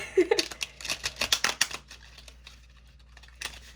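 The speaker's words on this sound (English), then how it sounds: "I just try and like shove the cards together" Quick papery riffles and snaps of playing cards being pushed and shuffled together up close, busy at first then settling into a few softer taps.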